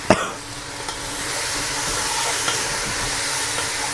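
Fish curry ingredients with curry leaves and tomato frying in a pan, giving a steady broad sizzling hiss with a sharp scrape of stirring at the start and soft utensil touches throughout.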